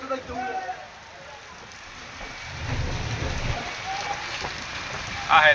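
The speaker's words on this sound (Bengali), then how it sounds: "এই বৃষ্টির ভিতরে এই আবহাওয়া খারাপের ভিতরে" Rain falls in stormy weather on the Karnaphuli river near a buoy, a steady broadband patter that swells midway. Voices come through faintly at the start and end.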